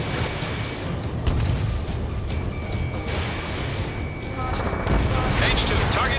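Missiles launching and exploding in the jet combat video game Ace Combat 7, a steady roar of booms and blasts over engine noise, with radio-style voice callouts through it.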